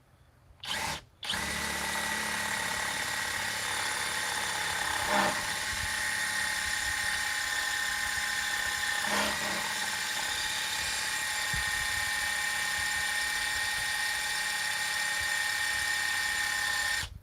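A battery-powered drill drives a screw in one long continuous whine that holds steady at close range, after a brief opening burst and a short pause. Two faint dips in tone break the run partway through.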